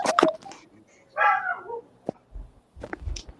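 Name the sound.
dog barking in the house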